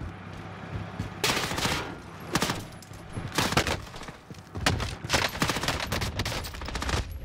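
Bursts of automatic gunfire crack out in a Call of Duty Warzone gunfight, several rapid volleys loud and close with short pauses between them, no talk.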